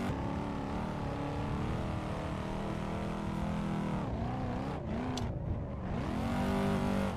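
A car engine in a racing simulator game, driven with a Moza R5 wheel while drifting, revs in rising and falling sweeps over a steady drone, fairly quiet, with sharp dips as the throttle lifts near the end.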